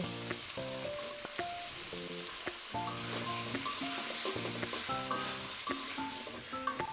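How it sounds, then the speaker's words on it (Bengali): Potatoes and tomato fry and sizzle in a pan for a fish curry, a continuous hiss with scraping stirs, under a steady backing of music. "আলু দিয়ে আর একটু ভালো করে নেড়ে চেড়ে নেব"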